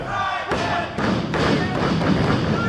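A wrestler's gutbuster lands in the ring with heavy thuds, several dull impacts thumping across the mat over a murmuring crowd and commentary voices.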